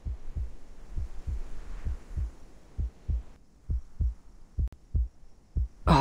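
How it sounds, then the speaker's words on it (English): A heartbeat just outside a door in the video game Reverse: 1999, a steady run of deep, muffled thumps repeating about twice a second for several seconds, with a brief burst of noise at the very end. "A heartbeat. Right outside the door."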